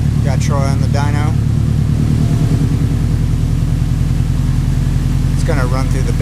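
A Subaru WRX or STI engine idles on a dyno with a steady low drone and rumble, loud and close, while people speak briefly over it at the start and end.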